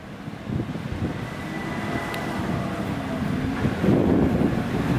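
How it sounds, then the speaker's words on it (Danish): An IC4 train passing at a station, a steady loud rumble of wheels and carriages with a faint high whine, sustained and close, with no voices. "Her har vi IC4-toget"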